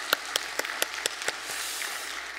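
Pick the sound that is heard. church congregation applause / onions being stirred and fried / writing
church congregation applause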